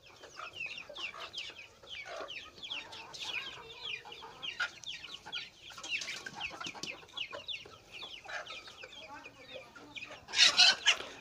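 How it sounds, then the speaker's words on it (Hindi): Hens cluck softly and steadily while pecking at homemade feed of garlic and onion, with a burst of louder clucking near the end and a voice speaking faintly at times. "आप देख सकते हैं कितने शौक़ से जो है ना मुर्गियां खा रही हैं"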